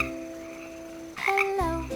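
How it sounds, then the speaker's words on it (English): A single frog croaks up close with a brief, resonant throaty call that rises, then stops abruptly, with no voices around it. "Frog."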